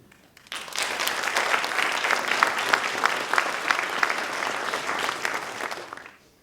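Audience applause at a high school graduation class night honoring scholarship recipients: a crowd claps steadily and densely for about six seconds, rising quickly at the start and fading out at the end, with no talking over it.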